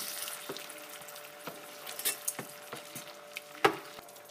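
A spoon stirs a small bowl of sauce mixture with a splash of water for chicken wraps, giving soft, sparse scrapes and clinks at a close, quiet level with no talk.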